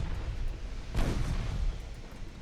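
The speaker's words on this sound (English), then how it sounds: "my cruisers are getting into range now, getting that broadside off" Warship broadside gunfire in the naval strategy game Ultimate Admiral Dreadnoughts, a single muffled boom rising over a low rumbling background.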